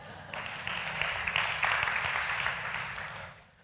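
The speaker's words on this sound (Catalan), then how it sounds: "Un altre aplaudiment" Scattered audience clapping during a creativity workshop card-trick game, fairly faint and moderately dense, swelling and then fading over a few seconds with no speech.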